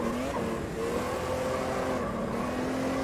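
An Opala oldstock race car drifting at Jacarepaguá in Automobilista 2, a steady engine drone with a sustained tonal whine that bends slightly, close and continuous for a few seconds.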